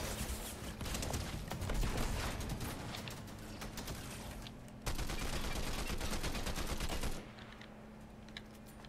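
Rapid automatic gunfire in a Fortnite match, continuous rattling bursts at moderate distance with a brief break midway, then the shooting cuts off and leaves quieter ambience; no talk.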